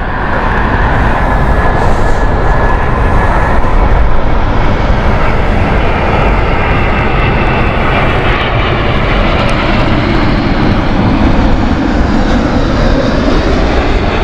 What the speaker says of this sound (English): 787 next, a British Airways Miami flight inbound